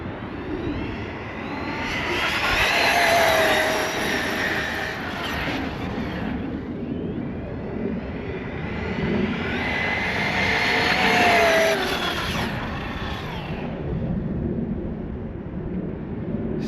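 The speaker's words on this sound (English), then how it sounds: "All right, top speed run, stock gearing, but with the bigger tires" An Arrma Talion EXB RC car with stock gearing and bigger non-belted tires makes two top-speed passes, each a rising high-pitched electric motor whine that swells and fades. The runs happen outdoors, and no one speaks.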